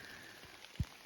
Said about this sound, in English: It's even rain.